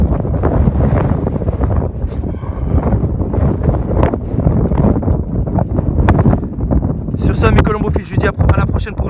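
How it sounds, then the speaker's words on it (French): Strong gusty wind at around 80 km/h buffets the microphone outdoors, a loud rumbling roar that surges and drops in irregular gusts, with a person talking through it. "Avec un vent, avec des bourrasques à 80 km/h."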